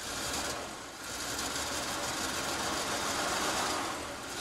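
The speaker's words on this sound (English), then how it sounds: "the Dodge started without choke" A Dodge car engine idles steadily just after starting without choke, a continuous broadband mechanical hum with a faint rhythmic vibration, held at an even level throughout with no talking.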